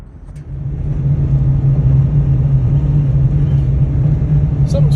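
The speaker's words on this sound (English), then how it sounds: "I think the computer senses that I'm going downhill with a trailer, so it downshifted to 2nd gear" A pickup truck towing a trailer downhill drops into second gear, its engine settling into a steady, loud, low droning rumble that rises at the start and holds, heard from inside the cab.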